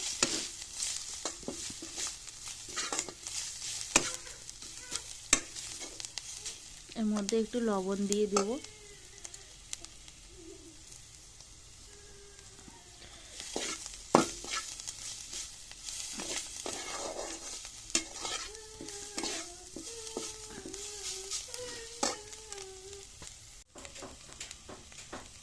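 Ginger and garlic frying in oil in a pan give a steady sizzle with stirring scrapes and clatters, while someone talks over it at intervals.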